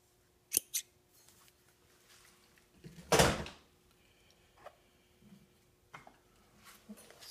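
Prototype EDC scissors cutting fishing line: a couple of sharp metallic snips, then one louder, longer cut, followed by softer handling clicks, all close up in a quiet room.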